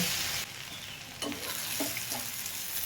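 Potatoes, cauliflower and spring onions sizzling steadily in a hot pan, a bright continuous hiss with a few soft scraping stirs partway through.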